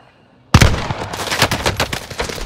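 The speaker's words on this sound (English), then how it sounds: "I'm under fire!" Rapid automatic gunfire bursts out in a battle royale video game, starting suddenly with a loud close shot followed by a dense, uneven stream of shots. There is no talk.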